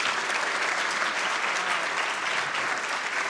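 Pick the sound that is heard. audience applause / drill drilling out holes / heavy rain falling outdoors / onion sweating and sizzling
audience applause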